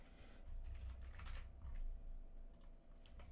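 Fingers typing on a computer keyboard, bursts of close, fairly quiet key clicks with short pauses, no voices.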